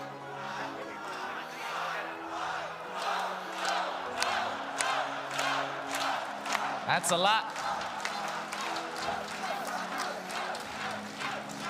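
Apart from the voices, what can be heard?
esports arena crowd cheering at the Dota 2 grand final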